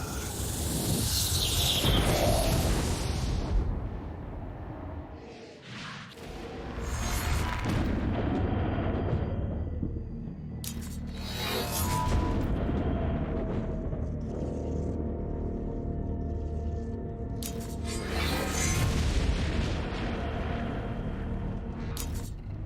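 Loud, continuous roaring blasts and fiery booms from the video game Saints Row: Gat Out of Hell, rolling in heavy waves across the whole stretch with no voices.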